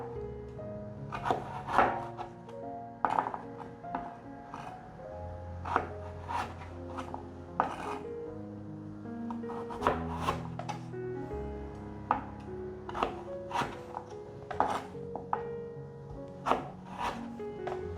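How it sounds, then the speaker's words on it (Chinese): A knife chops peeled burdock root into pieces on a cutting board, steady irregular knocks of the blade against wood, close and fairly soft, with musical tones playing underneath. "把每一个牛蒡切成4等份"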